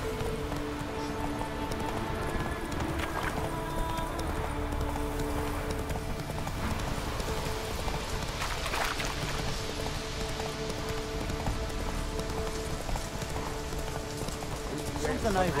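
Horse hooves clip-clopping at a steady gallop in the Witcher 3 video game, continuous and fairly close, with game music and ambient sound layered underneath and a voice speaking over it.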